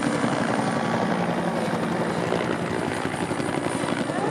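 A helicopter passing over a boat at sea, its loud steady rotor and engine roar filling the whole stretch without pause.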